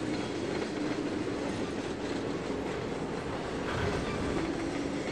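A shiny CSX model train rolls along a storage track, giving a steady, close rolling clatter of wheels on rails that holds at an even level throughout, with no voices.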